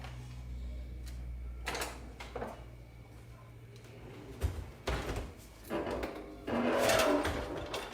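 Someone in a home kitchen opens a drawer to fetch a spoon: a few short clatters and scrapes of drawer and cutlery, with a louder burst of rattling near the end over a low background hum.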